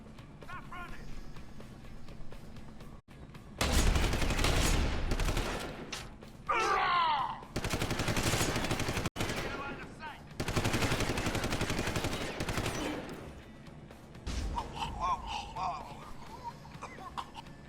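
Ray gun bursts firing in the Deus Ex: Human Revolution video game, several loud sustained volleys separated by short gaps, with voices talking in between.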